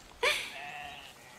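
A single goat lets out one sharp, close bleat that trails off into a wavering tail, with quiet farm surroundings and no talk.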